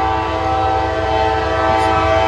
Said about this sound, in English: NS mixed manifest.